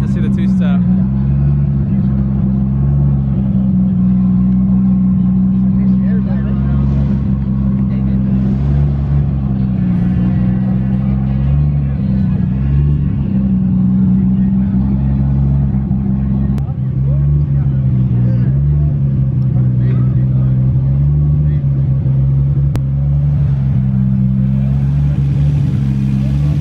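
A 1,000 horsepower car at an outdoor car show, its engine rumbling loud and steady with rising revs throughout, amid crowd chatter and murmuring voices nearby.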